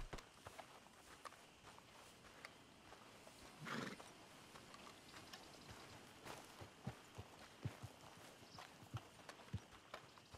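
A horse in Red Dead Redemption II, with hooves clip-clopping in an uneven rhythm and a short snort or whinny partway through, fairly quiet against the ambient game sounds.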